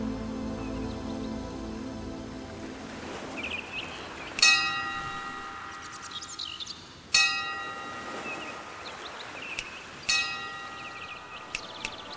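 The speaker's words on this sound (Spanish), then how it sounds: "Haz sonar las campanas" Bells ring out in a god game, three separate bright chimes struck several seconds apart, each ringing on and fading over a low murmuring ambience of birds and village background.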